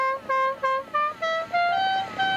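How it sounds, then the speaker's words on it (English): An air horn on a stripped-down Yamaha Arriva 200cc moped plays the Dixie melody, a sequence of loud, clear, brassy tooting notes stepping through the tune at close range. "Added a motorcycle headlight and an air horn that plays Dixie."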